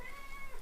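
A pet cat meows indoors, a short, soft tonal cry close to the microphone but faint overall.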